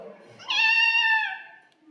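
Imitating a cat, a voice gives a single close, clear meow, rising then sliding down, about a second long and alone.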